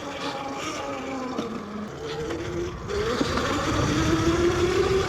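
A Yozma IN 10 electric dirt bike on a sandy trail with knobby tires, its motor whine rising in pitch and growing louder after a few seconds as it picks up speed, with steady rolling and wind noise throughout.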